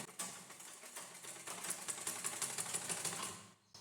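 A sewing machine runs steadily while stitching a blouse, giving a fast rapid mechanical clatter that stays close and fairly even before stopping abruptly near the end.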